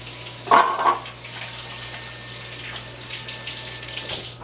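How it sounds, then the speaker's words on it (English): Hands rinsed under a running kitchen tap after handling raw eggs while baking fudge brownies, a steady water hiss with a brief louder splash near the start, no talking. "So I'm going to rinse my hands real quickly because I was working with raw eggs."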